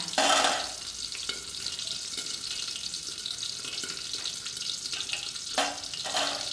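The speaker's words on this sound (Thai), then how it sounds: "เราก็จะมาทอดอีกครั้งนึงค่ะ" Crispy pork frying in oil in a covered pan for stir-fried kale with crispy pork, a steady hiss and crackle with a louder burst at the start and a few sharper pops near the end.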